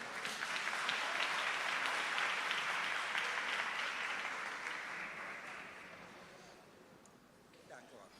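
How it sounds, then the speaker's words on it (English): Audience applause for a professor at a national elections event, a dense sustained wash of clapping that fills the room and slowly thins out toward the end. "please give him a round of applause as he makes his way to the front"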